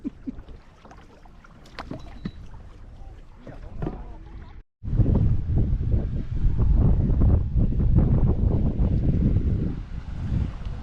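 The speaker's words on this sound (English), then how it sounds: "here comes the party boat going out" A party boat's engine rumbles steadily as it motors past at John Pennekamp Coral Reef State Park in the Florida Keys, loud and close, with wind buffeting the microphone throughout.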